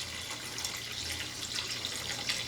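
Water poured steadily into a pot while making homemade ginger beer, a continuous splashing, trickling stream heard close and alone with no voices.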